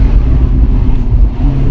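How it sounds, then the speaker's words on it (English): A BMW M140i accelerates with a loud, close, deep engine drone that rumbles steadily throughout, heavy low-end growl with slight fluctuations. "nice bit of whoosh, nice bit of pop in the gear change"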